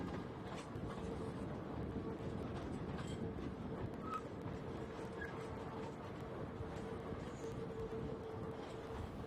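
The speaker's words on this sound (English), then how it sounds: "the train went through a number of sidings and loop tracks to finish up facing the right way for the return journey" The Gulflander railmotor at Normanton, Queensland, rolling through sidings and loop tracks, a steady rumbling run with faint wheel clicks and occasional light squeals, moderately distant and continuous.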